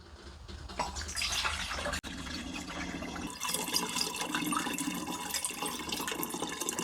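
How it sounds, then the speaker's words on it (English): Warm apple juice pours steadily into a container while making country white wine, a continuous close gurgling splash that deepens partway through as the vessel fills. "now I'm going to pour our warm apple juice in"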